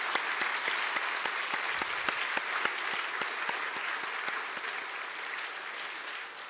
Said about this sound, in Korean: 한 번 더 축복의 박수 했으면 좋겠습니다